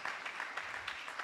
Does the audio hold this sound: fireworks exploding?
no